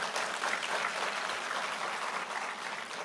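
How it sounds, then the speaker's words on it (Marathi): An audience at a Pune university closing ceremony claps for the volunteers, a dense, steady burst of applause from many hands filling the hall without letup. "या व्हॉलंटियर्ससाठी आपण एकदा जोरदार टाळ्या करू"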